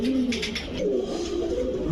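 Pigeons of fancy flying breeds such as Kamargar, Shahranpuri, Rampuri and Kaldam, kept for aerial flying, coo in steady low overlapping calls close by, with no talking.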